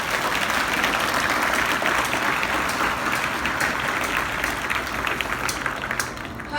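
School students at a convent school event clap together in a loud, continuous round of applause, a thick crowd of hands that holds steady and tapers slightly near the end.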